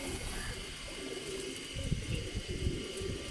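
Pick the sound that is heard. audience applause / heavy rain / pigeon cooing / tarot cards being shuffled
pigeon cooing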